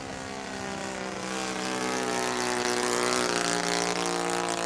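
A 1993 radio-controlled Piper Cub model airplane with a long wing flies by, its engine giving a steady buzzing whine that grows gradually louder as it approaches.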